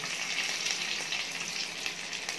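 Curry leaves and dried red chillies crackle in hot oil for a mango rice tempering, giving a steady, dense sizzle that holds evenly for a couple of seconds with no voices.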